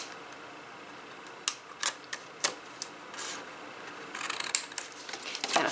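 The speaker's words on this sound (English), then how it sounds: "Then you're going to cut away these 2 squares here and this 1 square right here on both sides." Scissors cutting card stock for a handmade card and box, a series of sharp, distinct snips spaced apart, then a quicker cluster of cuts near the end, close and crisp against quiet room noise.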